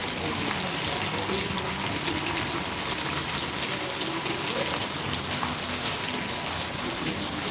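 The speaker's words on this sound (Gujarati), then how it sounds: "ફરી પાઠાવાડામાં વરસાદ વરસી રહ્યો છે" Steady rain falls in Panthawada, a dense, even hiss of drops on surfaces that holds constant throughout without pause.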